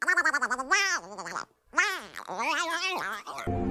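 A voice imitates a duck's quack in a rapid string of nasal, buzzing squawks, with a break before more honking quacks, loud and close over faint background.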